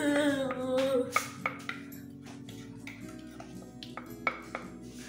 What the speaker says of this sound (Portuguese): depois de pôr na forma, né, você dá uma batidinha assim